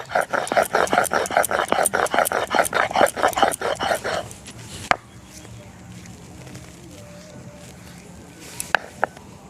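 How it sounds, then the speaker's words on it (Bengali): Cumin is ground on a grinding stone in a home kitchen, with rapid, rhythmic scraping strokes for several seconds. A sharp knock follows, then quieter background sounds with a few scattered taps. "জিরা বেটে নিচ্ছি।"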